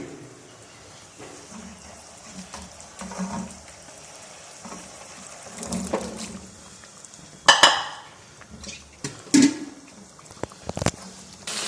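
Chickpeas tipped into a cooking pot of softened lentils for Lahori chanay and stirred, giving scattered clinks and scrapes of spoon on metal, with a brief louder clatter and patter midway against a low kitchen background.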